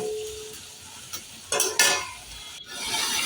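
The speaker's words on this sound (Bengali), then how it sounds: "এটাকে এবার আমি ভালো মতো পুরো সেদ্ধ হওয়া অবধি ঘাঁটতে থাকবো" Chopped tomatoes being stirred in a pan as they cook down, quiet scraping and stirring with a few louder spoon knocks and a faint sizzle underneath, no talking.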